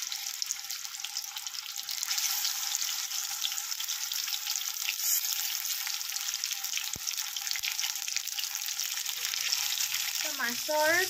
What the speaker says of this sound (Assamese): মাছকেইডোখৰ অকণমান ফ্ৰাই কৰি ল'ম